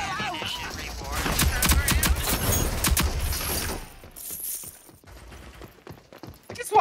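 Gunfire in a video game comes as loud, dense rapid shots with mechanical clatter, then falls to a quieter stretch of scattered shots before a sudden loud hit at the end.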